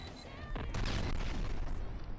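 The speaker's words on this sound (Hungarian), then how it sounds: "Jó, mekkorát robbant." A big booming explosion goes off in the video game Squirrel With A Gun, rising sharply into a loud sustained roar over quieter game music.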